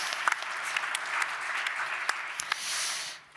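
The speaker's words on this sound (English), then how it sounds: "I'd say a warm and loud applause for Dr. Julia Korensky and Maria Sobur from TripLeap" Warm applause from the audience at a travel technology startup pitch session, steady clapping at moderate distance that thins and fades out toward the end.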